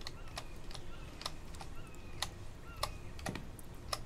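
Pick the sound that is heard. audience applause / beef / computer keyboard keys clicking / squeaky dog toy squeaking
computer keyboard keys clicking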